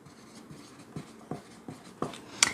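Chalk or marker strokes on a board during a class 10 maths lesson solving equations, a handful of short scratchy taps and swipes in quick succession, close and fairly quiet.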